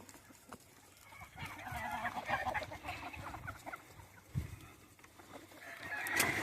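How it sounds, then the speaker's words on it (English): Chickens cluck steadily in a backyard chicken yard at feeding time, a busy overlapping flock of fowl with occasional louder squawks, fairly near and continuous with no talk. "Alright, y'all, we in the chicken yard once again."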